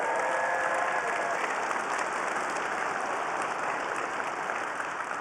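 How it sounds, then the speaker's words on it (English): Steady applause from a large keynote audience at a tech conference, a continuous wash of many hands clapping, heard at moderate level from across the hall. "Give DJ a big round of applause"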